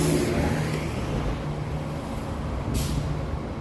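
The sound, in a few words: night bus passing on a Toronto street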